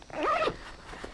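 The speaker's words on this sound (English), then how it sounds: "Zip it up." A zipper is pulled shut on a Kifaru Crater hunting backpack, giving one close, quick rasping zip over quiet room noise.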